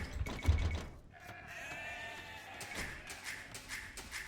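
Sheep bleating in the real-time strategy game Age of Empires 2 on an Arabia map, a drawn-out wavering bleat rising after a soft thump, clear and close amid light game effects.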